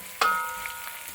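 Cumin seeds drop into a hot pan of oil and give one sudden sizzling burst that quickly fades to a faint crackle, heard close and alone.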